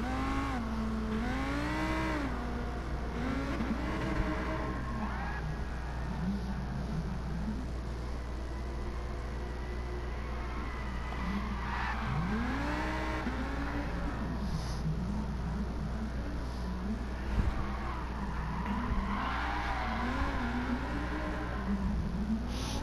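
Lamborghini Huracan Gr3 race car drifting in Gran Turismo Sport, its engine revving and rising and falling in pitch through the slides, with faint tire squeal, steady and moderately loud throughout.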